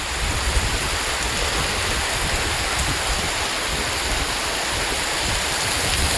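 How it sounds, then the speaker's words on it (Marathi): Heavy rain falls steadily onto a roadside stopping spot where travellers shelter on the way to a village fair. It makes a dense, even hiss that stays constant throughout, with no voices. "आता आम्ही रस्त्यात थांबलोत कारण पाऊस लागलाय."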